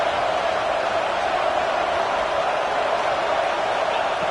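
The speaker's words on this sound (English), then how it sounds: "This crowd is trying to inspire this defense to make a big red zone stop." A football stadium crowd roars steadily during a college game as fans urge the defense to make a red zone stop, a dense, loud wall of cheering noise with no break.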